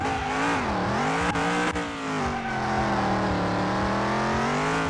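A 1969 Chevy Nova with a 560 engine races in Car Mechanic Simulator 2021, its engine droning loud and steady with rising and falling revs through a turn, and no talking.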